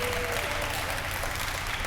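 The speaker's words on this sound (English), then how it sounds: "a big round of applause" Short burst of steady audience applause at a youth council graduation ceremony in a civic center, even clapping throughout with no break.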